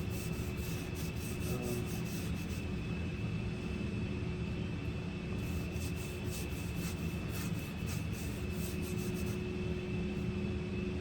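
Abrasive paper rubs steadily against a large oak bowl, a continuous close, dense scratching hiss with brief rhythmic strokes, alone and without speech.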